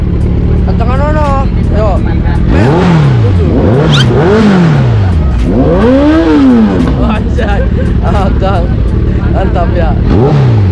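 Big-bike engines, a Kawasaki ZX14 and a Yamaha R6, start up and rev repeatedly at a village wedding celebration, loud and close with rising and falling throttle sweeps, while people talk and shout over them.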